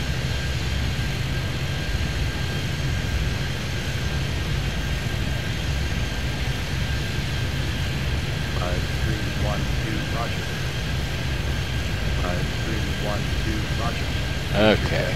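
A jet aircraft going around in Airport Madness 3D at Miami holds a steady engine roar throughout, while radio-style voices talk over it.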